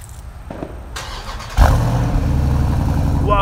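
A Dodge Durango cold-started: quiet handling noises, then the starter catches and the engine fires loudly, settling into a steady rumbling idle nearby.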